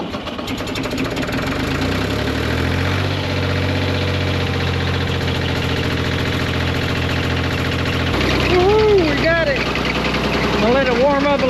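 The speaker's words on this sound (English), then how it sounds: "Let it warm up a little bit. Well, she's idling good, she's running good" A tractor engine warms up and idles close by with a steady, loud, knocking chug, while someone talks over it toward the end.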